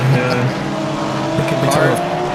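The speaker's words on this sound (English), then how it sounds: "Cars are loud." Race cars lapping the Nurburgring Grand Prix circuit in a racing video game produce a loud, steady engine drone with shifting pitch, and a voice runs over it.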